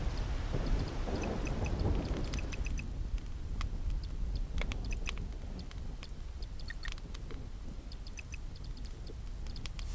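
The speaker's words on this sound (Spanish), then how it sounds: "Que le bajé ahí un poco a la lluvia. El sonido porque igual estaba un poco fuerte." Steady rain falls throughout a Solarpunk game scene, a dense broadband patter that starts louder and then eases to a softer, even level, with scattered faint clicks and ticks from the game on top.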